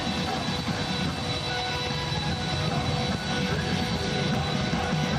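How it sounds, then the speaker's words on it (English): Jet aircraft engines hum steadily on arrival at an airport welcoming ceremony, a continuous broad low roar with no breaks, loud and unchanging throughout. "The sound of the engines hums deeply in the air"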